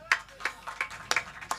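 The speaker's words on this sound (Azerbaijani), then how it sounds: "Əhmədi bir dənə alqışlayaq o" A few people clapping for a performer at a wedding, about half a dozen sharp, separate claps in a loose rhythm over about a second and a half, fairly close and with no voices.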